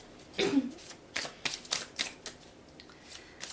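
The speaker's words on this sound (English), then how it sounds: "So I'm going to go ahead and shuffle the cards here." Tarot cards being shuffled by hand, a series of short papery riffles and taps in irregular bursts, close and fairly quiet.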